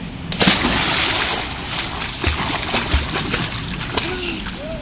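A child jumps into a backyard swimming pool, a loud splash and churning water burst at the start, then fade into lighter sloshing and dripping, with faint voices nearby.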